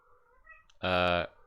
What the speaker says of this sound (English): There's a random cat walks in the corridor.